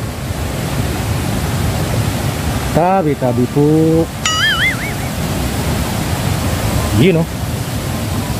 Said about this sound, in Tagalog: Naririnig na natin mga kaboards yung bagsak ng tubig